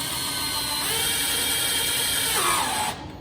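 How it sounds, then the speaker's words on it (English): A power drill whines steadily at high pitch as it bores a 5.5 mm hole through a KTM EXC motorcycle fairing, the tone shifting slightly before cutting off at the end. "Here, you will drill the hole with a"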